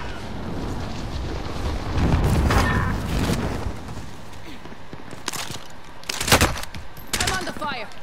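Gunfire in Call of Duty: Modern Warfare, with rapid volleys and sharp cracks over a battle din, louder bursts near the two-second mark and again around six seconds, with distant shots in between.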